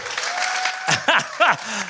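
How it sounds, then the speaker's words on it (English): A live audience of teachers in a school auditorium claps, the applause bright and fairly close, broken by spoken voices and whoops over the top. "That's not even canned applause."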